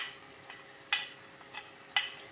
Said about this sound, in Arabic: بعد ما تقلات شوية نضيف صدر الدجاج هذاك